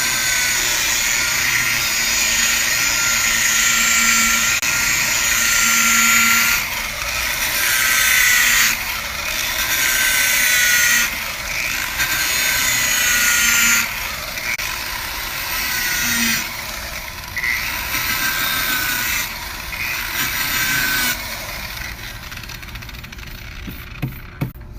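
2000-grit sandpaper is rubbed over a car headlight lens by hand, making a loud, continuous hissing scrape that comes in long strokes with brief gaps between passes.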